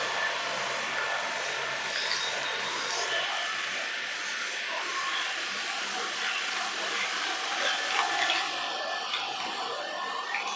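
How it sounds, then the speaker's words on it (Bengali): An electric massage machine runs during an office health checkup, giving a steady broadband whir that holds at an even level for about ten seconds with no clear pauses. "এই একটা আছে আমার কাছে মাসাজ, এটা একটা মাসাজের জন্য ইউজ করে থাকি আমরা।"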